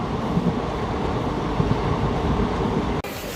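Guntur-Rayagada Express passenger train running in light rain, a steady loud rumble of wheels and carriage noise with faint rhythmic clatter, briefly dipping near the end before continuing.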